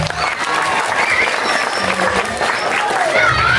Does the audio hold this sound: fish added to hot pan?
no